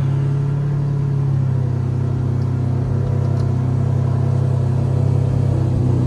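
A Lamborghini Murcielago that has sat unused for months idles to warm its oil before going on a lift. Its engine gives a steady, loud, deep rumble with a smooth, even pulse and no voices.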